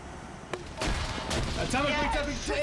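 Heavy gunfire from a BTR armoured vehicle in Arma 3 booms out in a few sharp bursts, then blends into a busy mix of further shots and excited voices talking over it.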